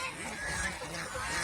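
Geese honk on a goose farm, a short burst of nasal calls over steady outdoor noise, fairly faint and close together.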